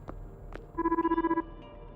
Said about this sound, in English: Oh, the telephone's ringing.